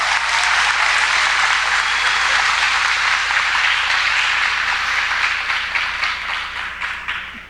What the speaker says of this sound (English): let us applaud the graduating class of 2023.